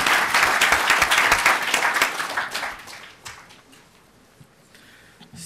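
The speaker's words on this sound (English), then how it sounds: "please join me in a round of applause for Staff Sergeant David Bellavia" An audience at a conference applauds a staff sergeant being introduced, a dense burst of clapping that thins out and fades to scattered claps.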